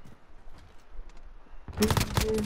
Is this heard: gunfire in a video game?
yes